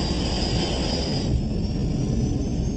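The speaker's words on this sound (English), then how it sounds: "The plane takes off from Stansted Airport at 6:36 p.m." A Korean Air cargo jet taking off from Stansted Airport, its engines giving a steady, loud, broadband roar with deep rumble that holds evenly throughout.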